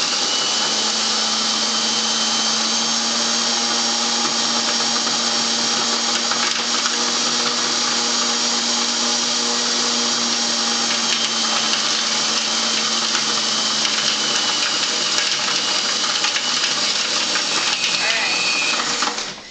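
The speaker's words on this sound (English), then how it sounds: "Mix it up again." Cream cheese truffle mixture being mixed in a blender or mixer, a steady loud motor whir with a low hum running without pause until it cuts off at the very end.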